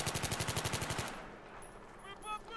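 Rapid automatic gunfire in Battlefield 3 shooting through a corrugated metal wall, a burst of about a dozen evenly spaced loud shots lasting a second, then a quieter tail of faint clinks and game noise.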